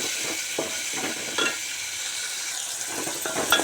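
Cumin, onions and green chillies frying in a pot for beans curry make a soft, steady sizzle broken by light stirring scrapes and occasional faint clinks, close and low in level.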